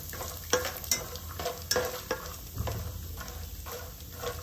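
Peanuts frying in oil for a tempering while bhelpuri is prepared, heard as a steady soft sizzle with repeated sharp scraping strokes of a stirring spoon, fairly close and without speech.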